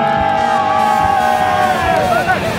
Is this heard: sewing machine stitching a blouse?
no